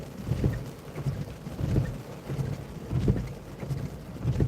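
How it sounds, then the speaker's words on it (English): Steady rain falls during a storm chase, a continuous hiss with low rumbling swells, heard alone without talk. "I wish it wasn't raining right now."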